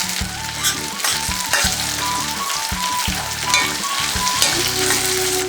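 Curry leaves hit hot oil with garlic in a pan while making puli kuzhambu, giving a loud, steady crackling sizzle with bursts of popping throughout.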